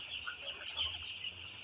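Six-day-old broiler chicks in a poultry shed give soft, continuous high peeping and clucking, a busy faint chorus heard up close, no voices.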